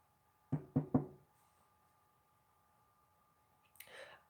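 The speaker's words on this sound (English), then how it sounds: "Knock at the door." Three quick knocks on an office door in the Wonderbolts Training Academy, crisp and close in a quiet room, followed later by a brief faint rustle.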